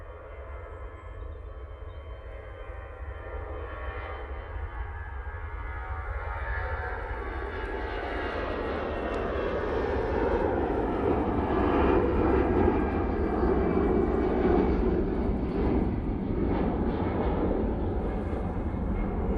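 An easyJet airliner on its takeoff roll out of Manchester, bound for Amsterdam Schiphol, makes a continuous jet roar that builds gradually and peaks midway, rumbling and whining with no voices over it.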